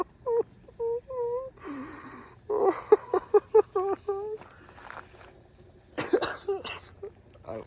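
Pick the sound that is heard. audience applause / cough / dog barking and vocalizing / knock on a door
cough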